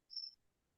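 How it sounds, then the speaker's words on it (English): A single short cricket chirp rings out clearly outdoors at night, a thin high trill lasting a fraction of a second over a quiet, faint background. "I got crickets in my background."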